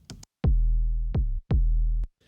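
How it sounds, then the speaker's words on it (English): Long electronic kick drum sample from a produced track, three deep booming hits with sustained low tails, each cut off sharply, heard alone after a brief opening noise. "So over there we have this kick sound."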